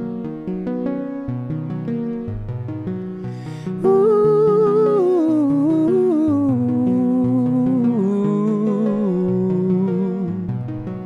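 A man sings a wordless riff in G sharp Dorian, starting with a busy run of short notes, then sustained wavering held tones, solo and close.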